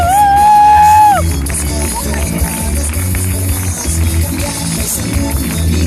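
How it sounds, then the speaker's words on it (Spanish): A crowd at a community gathering in Guichón applauds and cheers, preceded by a brief high whistle, then a sustained wash of clapping and shouts, loud and continuous. "¡Vamos! ¡Fuerte el aplauso!"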